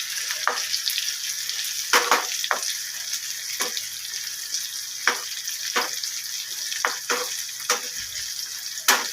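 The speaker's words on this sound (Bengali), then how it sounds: "এদিকে পেঁয়াজটা একটু ভেজে তুলে রাখবো, তবে বেরেস্তা করবো না।" Onions fry in a pan for a paneer biryani, giving a steady close sizzle with scattered sharp clicks and scrapes of stirring over the hiss.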